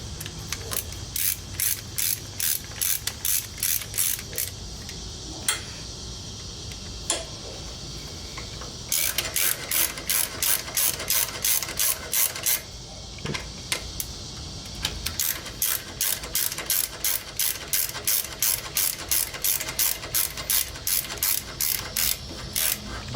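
Rapid ratchet clicking while the oil filter is tightened on a 1985 Yamaha Virago XV700 motorcycle, close and loud, in repeated bursts with short pauses between strokes.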